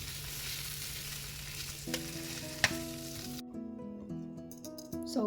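Steak frying in butter in a pan, a steady close sizzle throughout with a sharp clatter midway and a tonal hum entering partway through, no talking.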